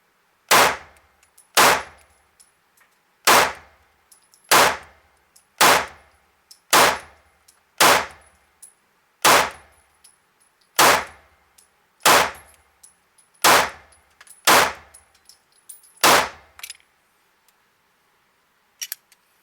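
Smith & Wesson M&P Spec V firing at a steel target rack: about a dozen sharp, loud shots spaced roughly a second apart, each followed by a brief ringing decay.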